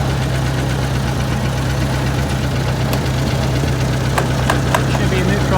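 An old vehicle engine idling steadily with a loud, constant mechanical rumble and slight knocking, a few faint clicks near the end.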